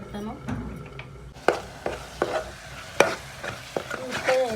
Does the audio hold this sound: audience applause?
no